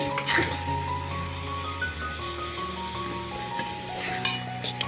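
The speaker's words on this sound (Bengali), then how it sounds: "মশলাটাকে আরো কিছুক্ষণ কষিয়ে নেব।" Spice paste sizzling steadily in a pan for a duck curry, with occasional scrapes and clinks of a stirring utensil against the cookware.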